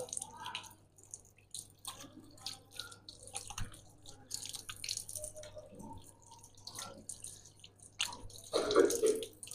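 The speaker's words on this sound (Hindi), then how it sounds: "इसके बाद हमने बायां बाजू धोया" Water drips and splashes softly while a left arm is washed up to the elbow during ablution, with scattered trickles and a brief louder splash near the end, close and quiet.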